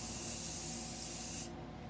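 Spray gun laying metallic blue paint and clear coat onto a tank, a steady close hiss that runs unbroken and stops abruptly near the end, with only a faint residual hum afterward.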